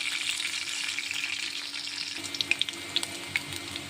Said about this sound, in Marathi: तेलामध्ये आता हिरव्या मिरच्या टाकल्यात